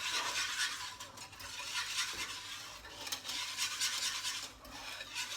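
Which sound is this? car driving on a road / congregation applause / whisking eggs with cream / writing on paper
whisking eggs with cream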